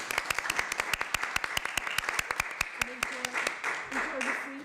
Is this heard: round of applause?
yes